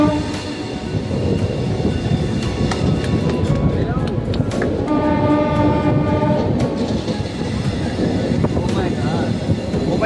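The Rayalaseema Express train rumbles and clatters steadily as it pulls away from Renigunta, with a horn sounding midway and people talking in the background.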